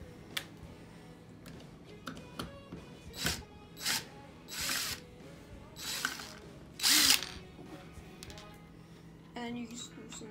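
A power drill loosens screws on a Walnut Hollow wooden plaque in short bursts of whirring and ratcheting, close by, separated by pauses, with quiet talk between them.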